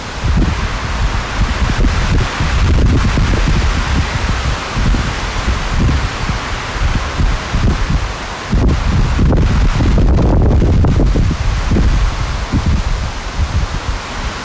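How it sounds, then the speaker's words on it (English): Strong, gusty wind roars and buffets the microphone nonstop, with louder surges rising and falling and leaves rustling underneath; no one speaks. "this wind has been nonstop for like 4 days. Just big gusts."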